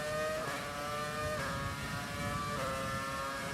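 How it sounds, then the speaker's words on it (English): A V8 engine in the racing game F1 2020 screams loudly and continuously, pitch rising and falling through several rev sweeps and gear changes, heard alone without speech. "Let me hear that V8."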